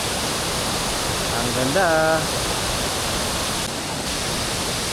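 Tagbibinta Falls roars as a steady, broadband rush of falling water, close and constant throughout, while a voice briefly speaks over it.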